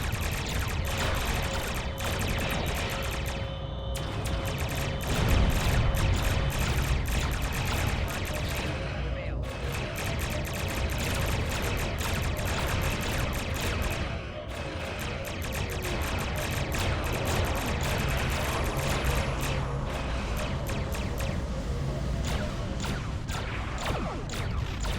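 Starship weapons in Star Trek Online blast continuously from a maneuvering Klingon ship, with dense crackling fire and crashing impacts over a steady rumble, while voices talk over the combat.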